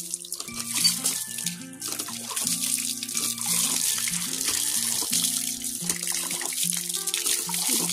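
Tap water runs steadily while hands are washed outdoors at a planting site, a continuous hiss and splash with tonal music playing underneath.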